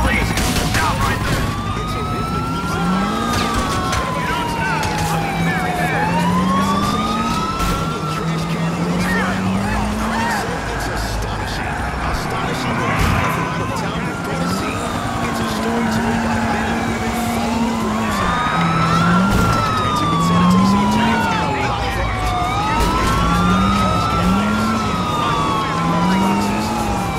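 Several police sirens wail in the video game GTA IV, their rising and falling tones overlapping and repeating through the whole stretch over a steady traffic rumble, fairly loud and close.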